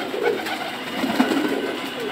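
Pigeons in a loft give soft, low, rolling coos in a close, continuous murmur that runs without pause, with no talk over them.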